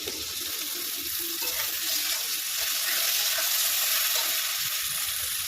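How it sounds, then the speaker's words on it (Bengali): Sesame-washing water poured into a pan of curry with turmeric, tomato and ground spices, giving a steady broadband watery hiss and sizzle throughout, moderately loud with no talking. "তিল ধোয়া জলটা দিয়ে দিলাম।"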